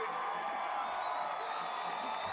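Roaring high school football crowd in a stadium, a dense sustained wash of cheering and whoops heard from a distance, loud and continuous with no pauses.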